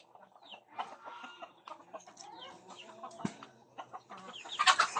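Several chickens clucking and squawking in irregular bursts, close by, growing louder and more agitated toward the end as they are chased and caught for slaughter.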